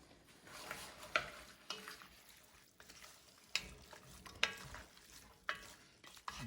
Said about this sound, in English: I'm going to get these down into that melted butter and that little bit of that bacon fat that's in there.